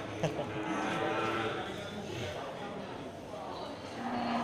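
Simmental and Limousin cross cattle at a livestock market, with crowd noise and a faint moo or two beneath steady talk close by.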